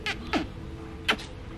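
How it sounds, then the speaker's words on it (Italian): A cat meows about three times in short, fairly close calls, spaced across a quiet room-tone background during incense-stick making. "Beccato il gatto!"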